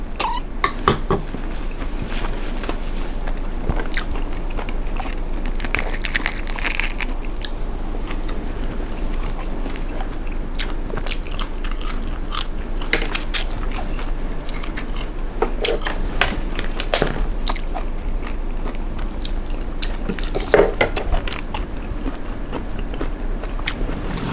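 Large raw Surat Thani oysters being eaten up close: repeated wet biting, slurping and chewing with occasional clinks of cutlery and dishes, steady throughout with no talk.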